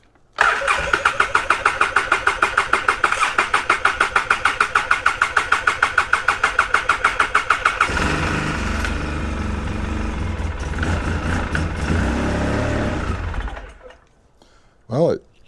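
A Polaris Sportsman 700 ATV engine cranks with a rapid rhythmic chugging for several seconds, then catches and runs steadily at a loud idle before cutting off, with a brief blip near the end.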